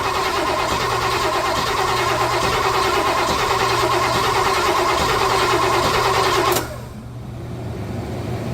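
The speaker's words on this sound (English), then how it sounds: "we're getting ready to try to fire it up" A car engine with a distributor failure cranks and runs loud and steady with a buzzing, mid-pitched roar, then cuts abruptly to a quieter, softer rumble.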